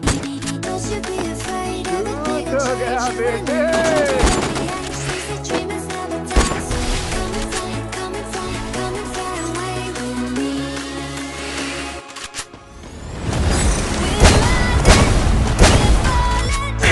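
Grenades thrown and exploding in a battle royale video game: several loud booms and crashes over game music and effects, with a big blast near the end.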